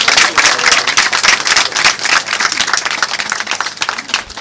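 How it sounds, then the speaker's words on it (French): Loud, sustained crowd applause with dense overlapping claps at a ceremony marking ten years of the ITV international press group, continuous and close throughout. "Applaudissements encore, s'il vous plaît, un peu plus fort."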